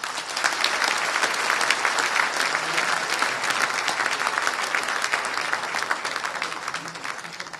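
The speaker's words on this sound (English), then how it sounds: "Let's give another big applause to them." Sustained, dense applause from a large crowd at the Bangladesh Investment Summit 2025, steady and loud throughout with no letup.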